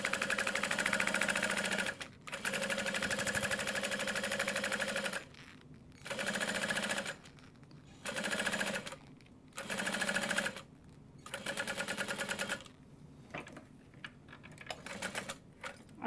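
Sewing machine stitching a tote bag, rapid mechanical whirring bursts of a few seconds each, stopping and starting repeatedly, close and clear with no talking.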